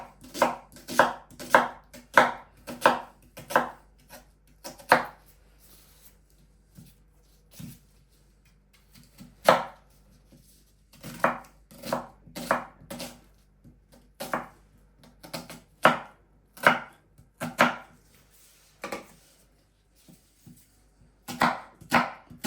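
Onions are chopped with a knife on a board in quick bursts of crisp, rhythmic thuds, then short pauses, close and clear, with no voices.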